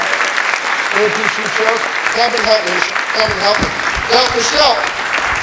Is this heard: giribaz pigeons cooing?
no